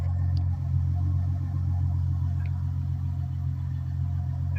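A 2006 Ford Mustang with its original single exhaust runs at a steady idle, a low, even rumble held close and unbroken throughout.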